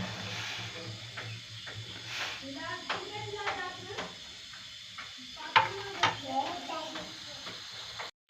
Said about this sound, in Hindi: ये देखिए उबाल आ रहा है।